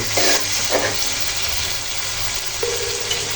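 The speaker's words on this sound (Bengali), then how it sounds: "একটু পর পর এইভাবে নেড়ে চেড়ে দিতে হবে যেন কড়াই তলায় যেন লেগে না যায়" Boal fish curry with tomato and green peas is stirred in a wok, giving a steady low sizzle and frying hiss with a few scraping spoon strokes.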